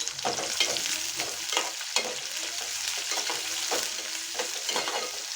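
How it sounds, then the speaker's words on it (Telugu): Onions frying in oil in a pan for a sprouts curry, with a steady close sizzle throughout and repeated scraping stirs of a spoon against the pan, and no talking. "ఆనియన్స్ వేసి మొత్తం కూడా పచ్చివాసన పోయేంత వరకు ఆయిల్లో ఫ్రై చేసేసుకోవాలి"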